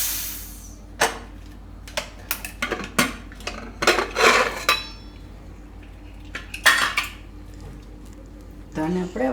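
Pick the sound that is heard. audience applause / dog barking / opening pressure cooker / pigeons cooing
opening pressure cooker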